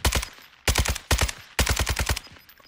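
A Fennec submachine gun in a battle royale video game fires four rapid bursts, each a fast, loud rattle of shots separated by short pauses, up close and with no talking.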